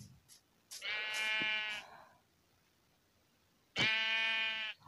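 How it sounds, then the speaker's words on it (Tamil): A sheep in the video game Minecraft bleats twice, each a loud, drawn-out wavering call close up, separated by a quiet pause, with no talk. "ஏங்க ஆடு குட்டி வர இருக்குது தம்பி, நீ போடா."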